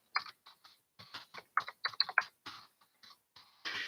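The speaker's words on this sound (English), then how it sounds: "I'll just write that in." Quick, close taps on a computer keyboard come in short irregular bursts with small gaps, ending in a slightly longer clatter, with no talking.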